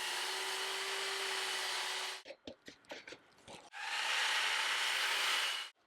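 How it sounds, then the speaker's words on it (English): A power tool trims the front edge of a wooden sharpening station, a loud, steady cutting whine that breaks off into a few seconds of scraping and knocking, then starts up again at full strength. "Just want to trim this front edge off here."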